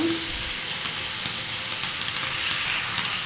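Cauliflower and potatoes fry in hot oil with panch phoron spices, salt and turmeric in a wok, giving a steady, close, dense sizzle that carries on without a break and with no talking.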